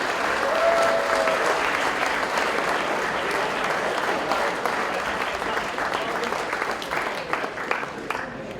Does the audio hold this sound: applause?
yes